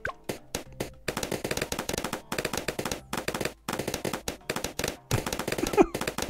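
Dense rapid popping of balloons in the tower defense game Bloons TD6, clusters of sharp pops arriving in quick bursts separated by brief silent gaps, loud and close.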